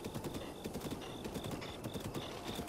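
A horse galloping in The Legend of Zelda: Breath of the Wild, a quiet, rapid, continuous clatter of hoofbeats in an even rhythm behind other game sounds.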